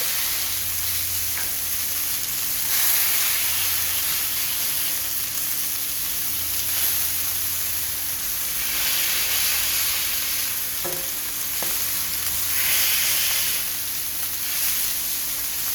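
Smashed pork burger patties frying in a pan: a constant loud, close sizzle and crackle with gentle swells, sounding alone without any talk.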